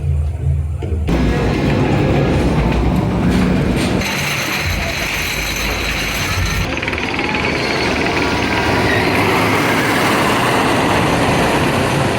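The Wicker Man roller coaster at Alton Towers gives a loud, continuous mechanical clatter of ratcheting and rumbling machinery that fills the whole stretch, steady and close, with no voices.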